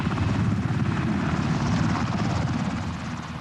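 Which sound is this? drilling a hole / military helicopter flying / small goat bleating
military helicopter flying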